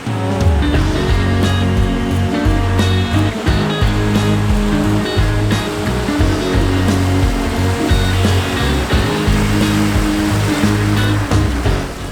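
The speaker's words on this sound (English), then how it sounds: "possibly the deepest water crossing we've ever taken the van through" Loud, continuous rushing and churning water with a low engine rumble underneath, sustained throughout without pause, as a van ploughs through a deep water crossing near Telkwa Pass in northern Canada.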